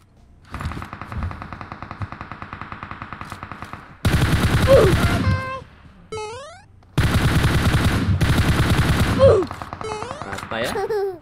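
Automatic gunfire from a battle royale video game, rattling in rapid bursts with brief gaps, loud and close, alongside other game effects.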